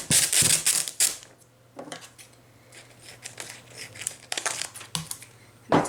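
Transfer tape crinkles and is snipped with scissors for a Cricut vinyl project on a Dollar Tree plate, in bursts of close rustling and cutting with quiet pauses between.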